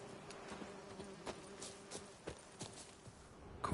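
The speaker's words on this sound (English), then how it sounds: "Fucking bees." Insects buzzing around a griffin's nest in The Witcher 3, a low steady hum of bees or flies close by, dotted with small soft clicks and rustles from the game world.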